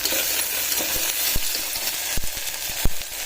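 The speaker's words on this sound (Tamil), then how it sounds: "நல்லா வதங்கட்டும்" Onions and spices sautéing in a pan for bottle gourd rice, a close, continuous sizzle broken by a few sharp clacks of a spoon against the pan, no one talking.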